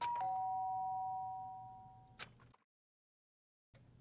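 A doorbell chime sounds in the game Danganronpa: Trigger Happy Havoc. Clear ringing tones open the clip and slowly fade, followed by a short click, then silence before quiet background sound returns.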